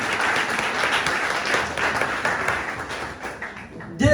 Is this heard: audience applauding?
yes